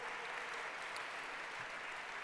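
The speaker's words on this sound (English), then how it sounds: "Give the state party a great round of applause for the great work that they do." Audience applause at a state party fundraising dinner, a faint, steady wash of many hands clapping from a distance, continuous throughout.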